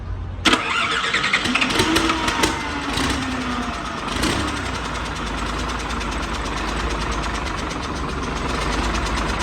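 A used car engine cranks and catches with a few sharp bursts, then settles into a steady, close idle that hums on without any talking.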